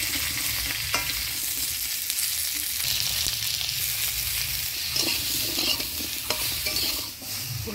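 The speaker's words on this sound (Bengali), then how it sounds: "হলুদ লবণ দিয়ে নাড়াচাড়া করে নিলাম" Drumsticks and potatoes stirred in a pan with turmeric and salt during frying, giving a steady close sizzle with repeated scraping stirs and soft knocks throughout.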